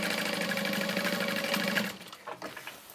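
A sewing machine back stitching a seam on a fabric tote bag, a steady fast whirring run of stitching for about two seconds that stops abruptly, followed by a few soft clicks and taps.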